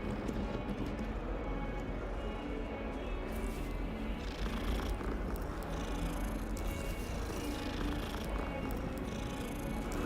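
A cat purrs in the video game Hogwarts Legacy, a steady, soft, rumbling drone that runs unbroken and close for the whole stretch with no talking.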